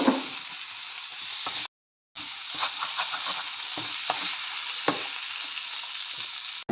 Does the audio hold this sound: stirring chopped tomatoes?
yes